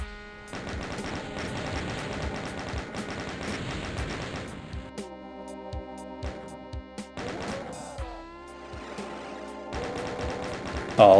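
Rockets and bullets fire in a Doom E1M8 fight, with dense rapid gunfire and blasts for the first half, then sparser repeated shots and explosions over game music and drones, loud and close.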